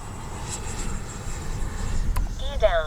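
Arrows RC F-15 64mm twin electric ducted-fan jet model making a flying pass, a steady whooshing fan whine at moderate distance, with a voice speaking briefly near the end.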